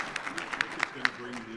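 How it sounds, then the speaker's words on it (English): An audience at a Montana conference constituency session claps, a brief scattered burst of hand claps from a moderate crowd, close and fairly lively, mixed with voices talking. "So I think we ought to clap for that one"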